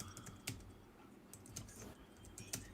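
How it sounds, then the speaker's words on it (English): Rapid, irregular keystrokes on a computer keyboard, quiet and close, with sharper clicks standing out among steady soft tapping and no voices. "Who's typing?"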